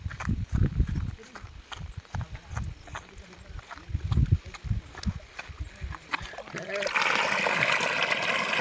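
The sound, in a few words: water gushing under pressure from a well motor pipe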